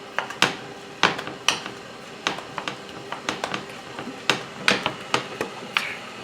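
Sharp, irregular clacks and taps of a utensil hitting ground meat in a pan, breaking it up while cooking a pizza pasta casserole, about a dozen close knocks spaced unevenly with quiet gaps between.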